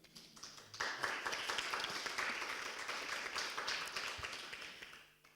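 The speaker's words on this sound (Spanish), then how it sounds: "yo creo que se merecen un aplauso" An audience applauds at a talk on ethnic and racial diversity in cultural institutions, with steady clapping that starts abruptly, holds for about four seconds and then fades out.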